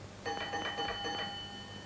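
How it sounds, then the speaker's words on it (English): Railway signal box block bell struck in a short series of ringing beats, clear and close, each strike decaying with a sustained metallic tone. "4 beats on the bell indicates an express passenger train"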